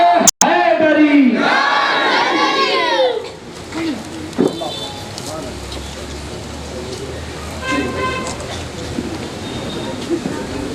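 A crowd at a religious gathering shouts slogans in unison, answering a leader's call with loud, ringing collective cries that then fade into a murmuring hubbub with scattered shouts.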